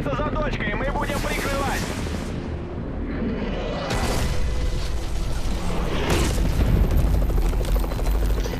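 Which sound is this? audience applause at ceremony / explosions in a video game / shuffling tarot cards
explosions in a video game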